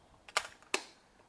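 A Nikon 801 35mm SLR, battery-powered with a built-in motor drive, fires its shutter: two sharp mechanical clacks about 0.4 seconds apart, close and crisp in a quiet room with no talking.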